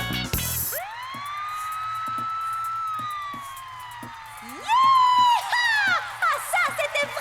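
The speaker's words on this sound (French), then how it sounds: "le son d'une sirène." A siren wails in a rising and sustained tone, then gives way to a few shorter, sharper siren whoops, loud and close.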